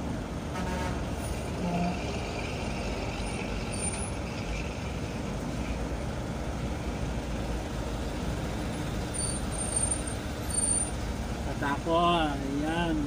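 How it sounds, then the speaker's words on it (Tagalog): Steady road traffic with trucks and buses on the northbound NLEX near Valenzuela after an L300 van crash, a continuous dense engine rumble with a brief brake hiss near the end, while people talk close by. "Traffic, traffic."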